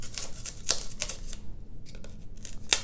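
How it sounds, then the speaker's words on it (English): Foam being cut into a circle around a cup, for repotting an overwatered African violet: close, dry scratchy clicks and crunches in short irregular bursts with brief pauses. "you put your cup and you put on top of the foam and you cut the circle"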